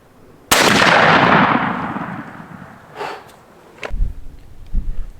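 A single loud shotgun blast firing a Federal Grand Slam turkey load at a target 30 yards away, with a sharp report and long fading echo, followed by faint thumps and rustling.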